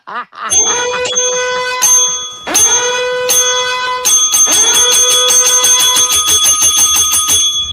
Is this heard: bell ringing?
yes